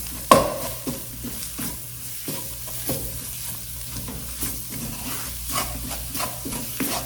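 Crab and flour stir-fried in butter in a pan for crab cream croquettes: a steady close sizzle broken by repeated scraping strokes of a spatula and a sharp tap at the start, with no talking.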